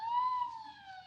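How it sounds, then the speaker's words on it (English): A police car siren wails steadily in the distance, one long sustained tone drifting slowly lower and fading a little. "There's a police car not far off."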